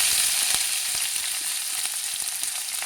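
Mutton fries in a pan with a dense, steady sizzle and crackle, close and continuous, with no one talking.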